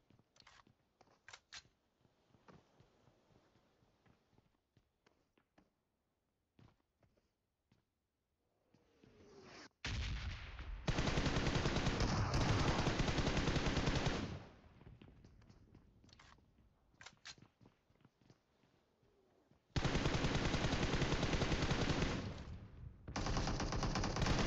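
Bursts of gunfire in PUBG Mobile: scattered sharp shots early on, then two long, loud, dense stretches of rapid firing with quieter clicking and footsteps between.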